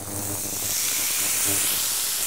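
Wild mushrooms hit a hot pan of lightly browned shallots over high heat, producing a loud, continuous sizzle and steamy hiss that stays strong throughout.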